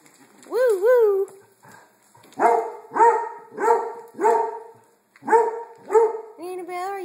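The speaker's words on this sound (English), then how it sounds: "You're just barking, barking." A dog barks repeatedly nearby, a string of loud, yappy barks at an uneven rhythm with a couple of higher whining yelps mixed in.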